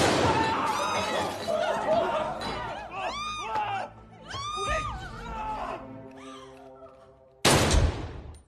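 A pistol gunshot fired during a confrontation, heard as a sharp, loud crack with a broad burst near the end, after screams, shouts and laughter from a group of young people and background music.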